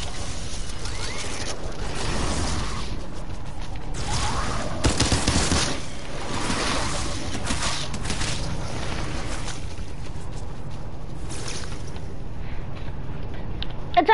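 Revolver gunfire and game mechanics in a zombie video game: a continuous busy mix of repeated shots and mechanical clatter at steady loudness, with no voices.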